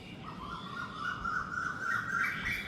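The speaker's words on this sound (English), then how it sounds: "you can hear the birds in the background" Birds chirping and calling at a distance outside a balcony in Bangkok, near a marina, faint and continuous over a low background hum.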